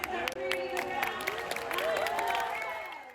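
A crowd cheers after a dog agility round, with loud overlapping shouts and whoops over clapping in a short, continuous burst that fades slightly at the end.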